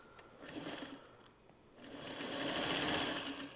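A sewing machine runs steadily while binding a quilt, a smooth continuous mechanical whir that dips briefly and then swells a little louder, heard close and alone.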